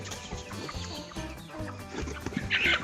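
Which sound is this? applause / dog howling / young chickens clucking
young chickens clucking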